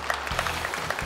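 A studio audience at a televised comedy show bursts into a short round of applause to welcome the next performer.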